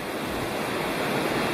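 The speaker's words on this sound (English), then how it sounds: "right alongside a big creek." A big creek flows beside a hiking trail in the Great Smoky Mountains, a loud, steady rushing of water that fills the moment without any voices.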